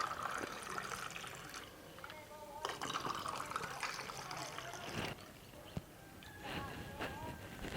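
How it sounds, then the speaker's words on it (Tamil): Water being poured into two glasses for nannari sarbath, a gurgling liquid fill that shifts pitch over several seconds amid kitchen clatter and a speaking voice. "இன்னும் 2 கிளாஸில் நம்ம வந்து தண்ணி சேர்த்துக்கலாம்"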